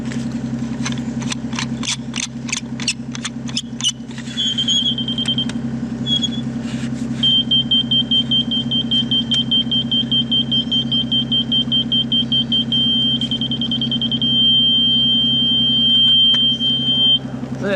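A tractor engine runs steadily at a construction site where concrete is being broken, a constant low rumble with a high, thin beeping warning tone and a run of rapid clicks over it, with no talking.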